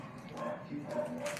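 A dog hiding underneath something gives brief, faint yips and whimpers, mixed in with nearby background voices.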